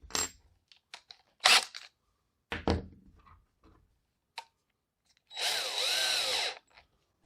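A power drill with a 1/8 bit boring into the tip of a G&G Predator airsoft gun, giving one close, loud whirring burst of about a second after scattered handling knocks and clicks.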